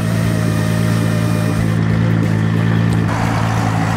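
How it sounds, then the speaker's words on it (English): A loud drag race car engine idles and rumbles steadily at close range with a deep, continuous low drone, no talk over it, at an 8-second-pass street racing event. "Man, Trevor's car is loud"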